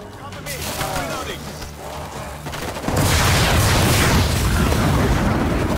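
A rocket goes off in the zombie shooter World War Z, a loud, sustained booming blast that takes over partway through and stays dense and roaring to the end, following earlier mechanical game noise.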